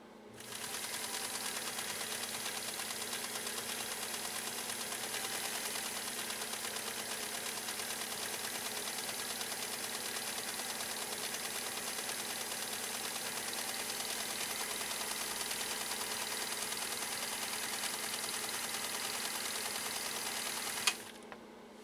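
A West German PFAFF 332 sewing machine runs steadily, stitching a lock stitch with a continuous dense mechanical whir and fast even needle clatter for about twenty seconds, then stops abruptly at the end.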